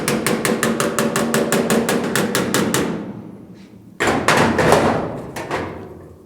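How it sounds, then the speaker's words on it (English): A hammer strikes a dented Pontiac GTO rear body panel held against a dolly, producing a quick, steady run of sharp metallic taps for about three seconds, then a pause and another short close burst. "as I move and hammer this way, I'll slide the dolly a little bit with me"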